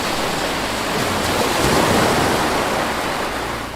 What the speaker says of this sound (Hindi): सबमरीन सरफेस पर आ रही है,